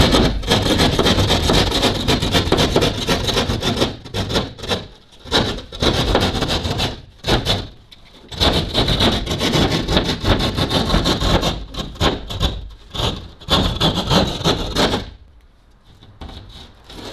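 A keyhole saw cuts a hole through drywall in a ceiling, with close, rasping back-and-forth strokes that run almost continuously, broken by short pauses, before the sawing stops near the end.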